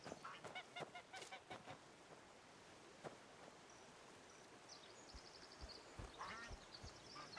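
Geese honk and quack in the video game Where Winds Meet, with several faint, scattered calls over a steady, stream-like background wash.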